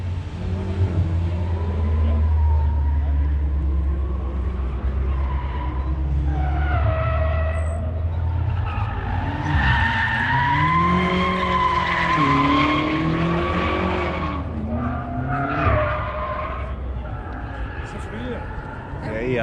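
A BMW drifting at a car show in Las Vegas, tires squealing and wailing in long rising and falling tones over a loud engine drone, with people talking nearby throughout.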